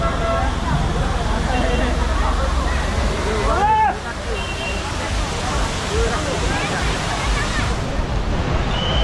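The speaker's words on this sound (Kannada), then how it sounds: "Amboli water falls" Steady roar of rushing water at Amboli waterfall during the monsoon, a loud continuous broadband wash filling the whole stretch, with a crowd's voices and brief shouts mixed in.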